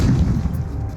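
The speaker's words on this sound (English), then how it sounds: "It begins with an artillery barrage by 700 Allied guns." WWII Allied artillery barrage from hundreds of guns, heard as a continuous deep rumbling roar of heavy gunfire, dense and loud throughout with no clear gaps between booms.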